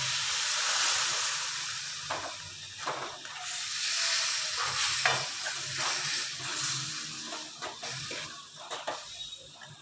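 Wheat flour stirred gradually into a hot pan for aata halwa, a steady scraping and frying sizzle with repeated spatula strokes, close and alone.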